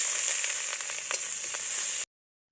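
Onions sizzle and crackle steadily in hot oil, a constant bright hiss with small pops, then abruptly cut off.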